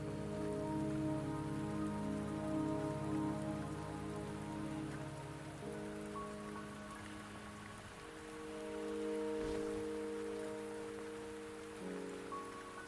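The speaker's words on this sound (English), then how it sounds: "Don't worry, the rain won't last much longer." Rain falling in the video game Wuthering Waves, a steady soft hiss of drops on surfaces beneath sustained tonal music, even and continuous throughout.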